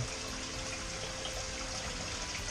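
Steady running water trickles and gushes through the flow system of an aquaponics greenhouse growing strawberries, a constant quiet wash with a faint pump hum.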